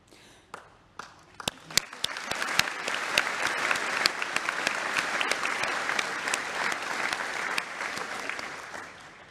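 Audience applause at a Loughborough University honorary degree ceremony: a few scattered early claps swell into sustained, steady clapping from a large hall crowd that holds for several seconds.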